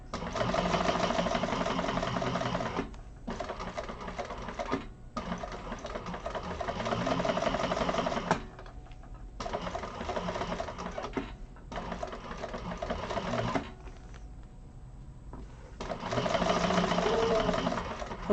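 A sewing machine chain-pieces quilt blocks during a quilting class, whirring in close, loud runs of a few seconds each, broken by brief quiet pauses between seams.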